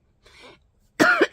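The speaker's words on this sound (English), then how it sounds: "Yes, I still have a cough." A single loud, close cough, rough and partly voiced, comes after a faint breathy sound and a moment of silence, with no talk around it.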